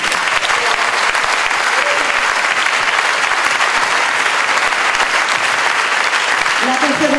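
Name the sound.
audience applause at a show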